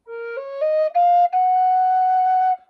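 A breathy triple drone flute plays a few rising notes, then holds a long sustained tone with overlapping drone pitches, clear and close.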